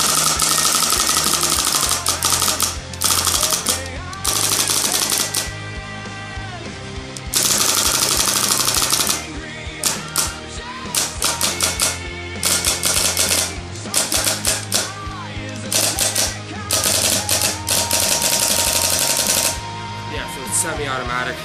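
A Spyder paintball marker fires in semi-automatic mode, loud rapid volleys of sharp pops in long bursts with brief pauses, up close, and a voice talking briefly between strings of shots.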